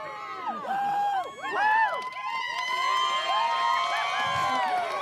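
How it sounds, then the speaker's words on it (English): Excited crowd at the Red Bull Rampage freeride mountain bike competition cheers and whoops loudly and continuously, with high shouts rising and falling and a louder swell near the two-second mark. "you can hear the crowd. They are excited"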